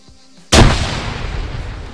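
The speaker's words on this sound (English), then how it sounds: "we're going to kill ourselves with a grenade" A single grenade explosion in Arma 3: quiet background, then a sudden loud close blast at half a second that rolls off in a long rumbling decay.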